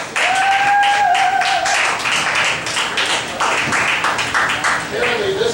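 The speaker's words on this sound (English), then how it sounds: "Give him a round of applause." An audience gives Ricky Kendall a round of applause, loud sustained clapping with sharp individual claps, while tonal sounds and voices run through it.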